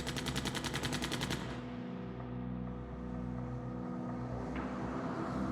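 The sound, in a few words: gunfire fusillade, machine gun shots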